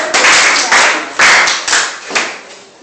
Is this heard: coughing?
no